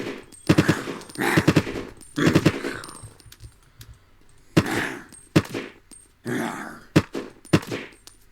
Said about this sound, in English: It's got semi-auto, as you can see here. One click, one shot. This is its firing sound.